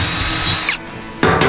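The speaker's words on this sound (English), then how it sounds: "So just drill them from the backside and keep your hand out from underneath of the hole" A power drill bores through a used steel barrel during a drum smoker build, a loud close whine that cuts out briefly and then starts again.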